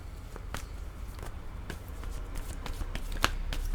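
Cards shuffled by hand for a tarot-style card reading, a rapid run of crisp, close riffling snaps and flicks continuing without talk.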